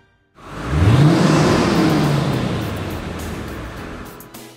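A 1999 Mercedes-Benz SL500 roadster with a 5-liter V8 revs up in one rising, swelling engine roar that peaks early and then settles into a fading, steady run, heard close with no voices.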